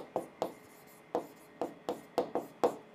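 Chalk scrapes on a board in a chemistry lesson: a run of short, crisp strokes and taps in an uneven rhythm, close and clear, with no voices.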